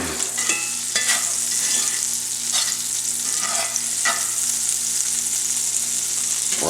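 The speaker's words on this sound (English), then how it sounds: "we're going to add a little bit of olive oil to this, and then a tablespoon of butter. I'm going to mix this up. Let this get melted." Butter melting into olive oil in a frying pan, with a steady close sizzle and a few spoon strokes scraping through the pan, no talking.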